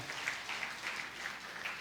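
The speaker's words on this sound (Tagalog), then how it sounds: "Isa pa nga pong malakas sa palakpak po sa ating Panginoon." Applause rolls through a church congregation, an even wash of many hands clapping at moderate distance, brief and steady.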